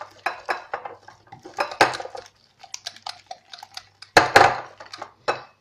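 Eggs and flour being mixed in a bowl for a chicken tagine coating, with a utensil scraping and clinking against the bowl in quick irregular bursts, close and fairly loud, with short pauses between strokes.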